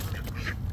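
A quick, faint duck quack or two, brief and a little distant, with no talking.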